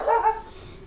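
A single short dog bark sound effect from MTG Arena, loud and close, fading within a fraction of a second.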